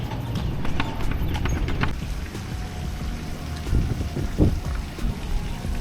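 Horse hooves clip-clopping on pavement during a horse-drawn tour near Lafayette Square, a steady rhythmic clatter under wind noise and background bustle, with a few sharper hoof strikes standing out.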